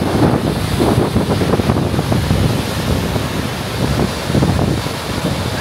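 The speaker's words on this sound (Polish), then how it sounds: "Przy takim wodospadzie, słuchajcie, zobaczcie, co się dzieje." A roaring waterfall seen from a stopped train on the Flåm railway, a steady broadband rush that stays loud and continuous throughout, with wind buffeting the microphone.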